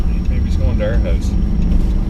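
A car speeds past outside on a residential street, a steady low rumble heard from inside a moving vehicle with its own road noise underneath, while people talk briefly over it.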